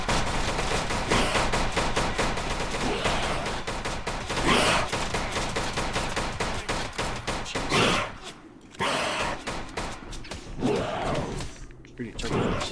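Gunfire in the video game Insane Bunker Pro, dense rapid shots and bursts running nearly throughout, loud and close, with a voice talking over it.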